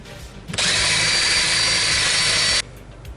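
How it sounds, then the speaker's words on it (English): A power drill drilling a hole through metal whines loudly and steadily for about two seconds, starting and stopping abruptly, with no talking. "I'm gonna drill that hole right now."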